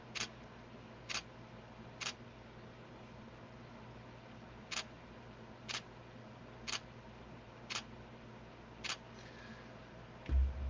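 A camera shutter fires about eight times, each a crisp isolated click spaced roughly a second apart against a quiet room hum, with a louder thump at the very end.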